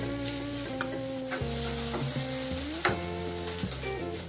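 Chopped onion sautéing in a pan until brown, with a soft sizzle and a few sharp clicks of a spoon stirring against the pan, all beneath steady background music.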